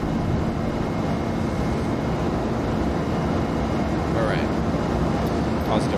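Engines of an A300-600F freighter roar steadily during the takeoff roll in a flight simulator, a loud constant broadband rumble, while someone talks faintly over it.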